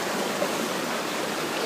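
Water flows inside Malangaan Cave in San Rafael, Bulacan, a steady, unbroken rushing wash that fills the space evenly with no voices over it.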